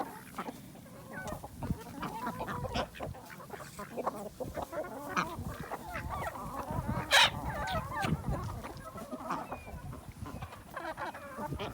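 Chickens clucking in a small pen while they eat, a busy mix of near, overlapping clucks and soft cackles with one sharper squawk midway, steady and moderately loud.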